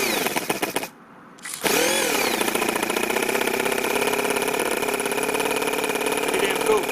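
A four-cylinder four-stroke nitro RC engine in a rat rod build whirs loudly up to speed after a brief electric start, then holds a steady, buzzing high idle, close by and dominant, with someone speaking faintly underneath.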